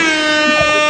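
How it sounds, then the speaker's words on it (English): One loud, sustained blast of an air horn at close range, a bright, brassy, buzzing tone lasting about a second, with no voices. "The air horn."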